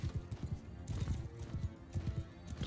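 Horses gallop in Mount & Blade II: Bannerlord, giving a fast, rhythmic clip-clop of many hooves that stays moderately loud and steady throughout, with no voices over it.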